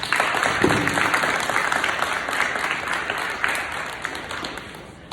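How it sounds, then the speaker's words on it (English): An audience applauds at a middle school leadership ceremony: sustained, even clapping from a crowd in a hall, fairly close and steady throughout before easing slightly at the end. "could we please give another round of applause to our Young Men of Excellence"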